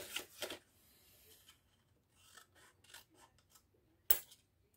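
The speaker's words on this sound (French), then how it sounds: "vous pouvez couper au ciseau si vous n'avez pas de cutter." Close, crisp snips and rubbing of scissors cutting material, a few separate cuts with quiet gaps and one sharp snip near the end.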